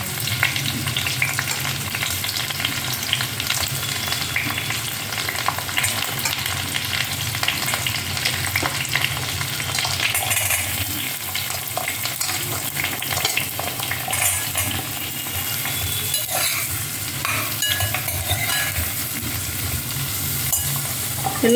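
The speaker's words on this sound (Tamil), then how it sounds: "எல்லா காய்கறியுமே ஒன்றா போட்டுட்டேன். நல்லா வதங்கணும்." Mixed vegetables and onions for sambar rice sauté in a pan with a continuous dense sizzle, and a spoon stirs and scrapes through them now and then.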